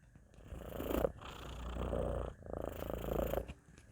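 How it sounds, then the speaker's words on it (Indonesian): A cat purrs softly and close by, in a steady rhythmic rumble that rises and falls with each breath. "itu suara kucing gue itu teman-teman"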